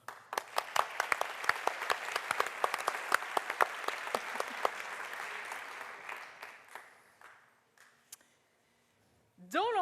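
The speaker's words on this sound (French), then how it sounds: "on va l'applaudir" An audience applauds the technician Julien at a French collective's event, a dense burst of clapping with sharp individual claps that thins out and fades over several seconds, followed by a brief pause and a short noise at the end.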